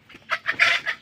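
Four native roosters clucking close by, a quick run of five or six short, nasal clucks over about a second.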